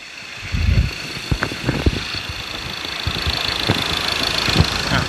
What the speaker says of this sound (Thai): เดี๋ยวเราจะไปทำทำการทดลองเร่งนะครับ ว่าเสียงเครื่องมันจะกระพือไหมเสียงเครื่องจะมีการเขกไหมในขณะ เร่งตัวเปล่านะครับ